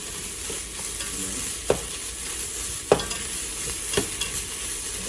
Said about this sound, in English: pretty much stir until you smell the garlic